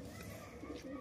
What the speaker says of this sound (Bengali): নর কবুতর আছে, প্রচুর বাজি নিচে, আর কবুতরের ওড়াও আছে খুব ভালো।